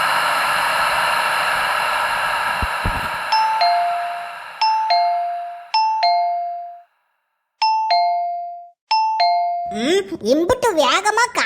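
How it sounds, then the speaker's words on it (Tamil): A doorbell rings out in repeated two-tone chimes, bright and close, over a hiss before noisy chatter begins, in a Tamil cartoon. "காலிங் பெல் அடிக்க ஒருத்தராச்சும் போய் என்னன்னு பார்க்காவளா"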